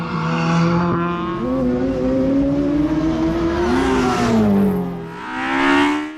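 Little Mini rally car with a big Honda engine launching off the start line at a Tynagh sprint stage, revving hard through several rising gear pulls close by, then fading as it drives away.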